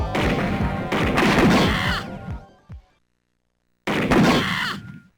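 Gunfire in a shooting gallery section of a Sega CD horror game set in Neo Kobe City, loud clustered bursts of shots and impacts in two flurries separated by a silent pause.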